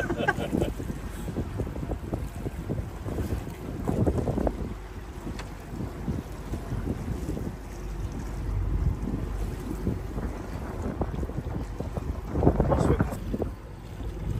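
A tourist boat cruising on the river at Dinan, with steady engine and water rumble, wind buffeting the microphone throughout, and a few faint voices.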